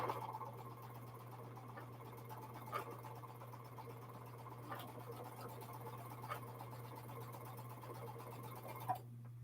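A home sewing machine runs steadily while quilt blocks for a jelly chain quilt are stitched, a soft continuous whir with a low hum and occasional light clicks, close and fairly quiet.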